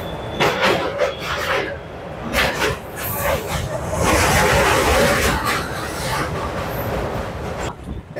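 The Kanchanjunga Express from Sealdah to NJP rolling along with a steady rumble and rattling clatter of carriages, heard from inside while people talk over it.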